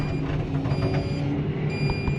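A log-loading machine sounds its backup alarm in steady repeating beeps over the continuous rumble of its running engine, close by and moderately loud, with no talking.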